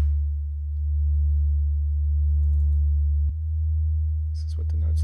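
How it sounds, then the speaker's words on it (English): A steady, deep sine-wave sub-bass tone from an oscillator in Ableton hums continuously, dropping to a new pitch partway through, with faint clicks near the end. "This is just a sine wave oscillator."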